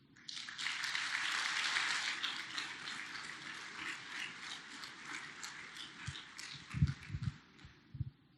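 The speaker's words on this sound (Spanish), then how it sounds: "déle un aplauso a Dios" Congregation at a church sermon breaks into applause, a dense burst of clapping that swells early and then tapers off, followed by a few low thumps near the end and no talking.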